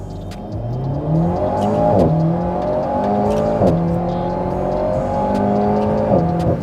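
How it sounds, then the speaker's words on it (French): An Alpine A110 sports car launching from a standing start, its engine note climbing loudly through three quick upshifts, each marked by a brief dip before the pitch rises again, heard close from inside. "Est-ce que tu veux chercher un petit départ arrêté comme t'aimes bien faire, Ayrton?"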